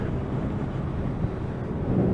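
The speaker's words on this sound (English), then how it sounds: "It is a bit of a windy day today," Steady low wind roars and buffets against the microphone throughout, with no voices.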